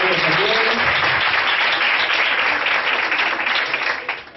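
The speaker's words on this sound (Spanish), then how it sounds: "un aplauso para ellos también" Steady, dense applause fills a quiz competition hall as the audience claps for team B, loud and sustained for several seconds before tapering off at the end.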